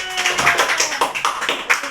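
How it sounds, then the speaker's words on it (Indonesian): Hands clapping in an elementary school classroom, a quick series of sharp, close claps in an uneven rhythm, loud and on their own. "tepuk tangan"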